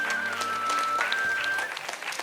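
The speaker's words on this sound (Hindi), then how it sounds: "हमारे दोनों जजेस के लिए एक बार जोरदार तालियां बजा दें।" An audience claps for the judges at a school debate competition, dense, steady applause from a crowd filling the room, with a faint feedback whine running through it.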